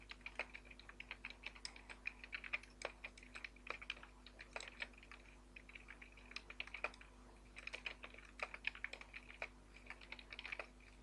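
A query is typed on a computer keyboard for PHP pagination code, with quiet, irregular clicks in quick bursts and brief pauses against a low background hum.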